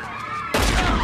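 A single loud gunshot from an X-Files episode cracks in suddenly over a quieter, tonal background and rings out for a moment afterward.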